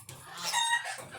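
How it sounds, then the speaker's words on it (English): Young roosters and chickens cluck and squawk in a busy, overlapping flurry of calls, fairly close and loud, with one sharper crow-like cry near the middle. "Young roosters always get into fights"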